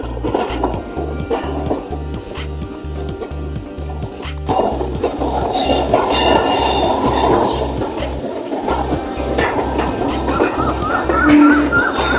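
Hazara Express train running on rails between Havelian and Rawalpindi, a loud steady rhythmic clatter of wheels over rail joints, the din swelling partway through with a brief dip near the end.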